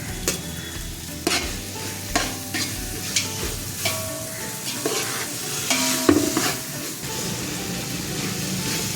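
Chicken is stirred and fried in a pan for chicken dum biryani, a continuous sizzle broken by several sharp scraping knocks of the stirring spoon, with no voices.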